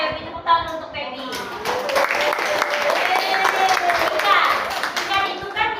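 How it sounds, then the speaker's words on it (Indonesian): Classroom applause for a pupil who answered correctly, a steady patter of children's hands clapping close by for several seconds, with young voices chattering underneath. "Tepuk tangan untuk Pebi."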